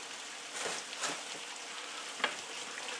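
Food sizzles steadily in a hot frying pan while a utensil stirs it, a continuous close hiss with soft scraping bumps and one brief clack.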